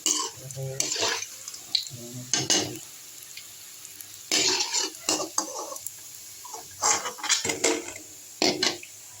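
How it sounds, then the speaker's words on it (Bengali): Sago (sabudana) snacks frying in oil in a wok, with bursts of sizzling and bubbling broken up by intermittent clatter of a utensil stirring against the pan, fairly close and with no talk. "দেখুন এগুলো ভাজা হচ্ছে"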